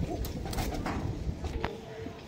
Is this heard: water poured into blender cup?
no